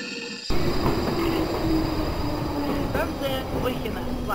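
A Moscow metro train on the Tagansko-Krasnopresnenskaya line, near Zhulebino station, rumbles loudly and steadily inside the car, with faint wheel-squeal tones rising near the end.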